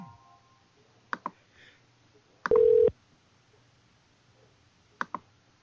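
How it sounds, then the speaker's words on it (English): A telephone is dialed on a radio show phone line: sparse pairs of sharp clicks over a quiet background hum, with a short harsh burst of line noise in the middle and no talking. "The phone is ringing, so hopefully he picks up."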